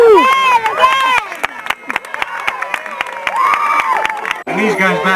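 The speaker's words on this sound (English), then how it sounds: "they seem to be applauding the beer thing" A crowd applauds at a Canada Day gathering in Niagara-on-the-Lake, with scattered sharp claps under loud voices and cheering that carry through the whole stretch.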